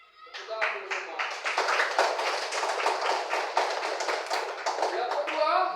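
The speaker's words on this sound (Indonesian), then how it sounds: "Tepuk tangan dulu semua." Students in a classroom clap together for several seconds, a lively, dense patter of many hands beating close by that fades in quickly and holds steady.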